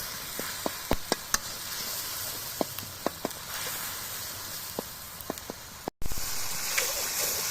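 Masala spices fry in a pan with a constant close sizzle and hiss, broken by scattered sharp pops and ticks, then a brief cut before the frying continues.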